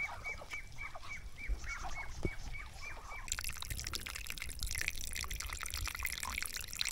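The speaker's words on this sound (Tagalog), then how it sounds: "Ito yung mga Muscovy duck at saka whistling duck." Muscovy ducks and gray whistling ducks calling together outdoors, a dense, continuous chorus of honks and chatter that grows busier and louder partway through, with a steady wash of background noise and no talking.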